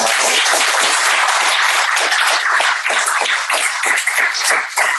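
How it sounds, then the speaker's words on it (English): Dense, loud applause from a panel event audience, sustained clapping throughout that thins slightly toward the end. "massive round of applause to the panelists"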